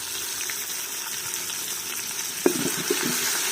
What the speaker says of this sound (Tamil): ஒரு வதக்கிறோம்